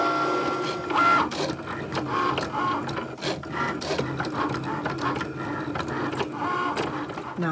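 A Cricut cutting machine runs steadily while cutting a design for a pumpkin wine glass candle holder, giving a continuous mechanical whir and buzz with rhythmic carriage movements and brief higher tones, fairly close and with no talk.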